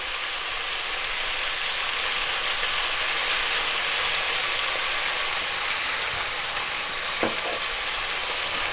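A steady, loud sizzle of vegetables stir-frying in a hot pan with about 3 tablespoons of oil, with a brief clink of a utensil near the end.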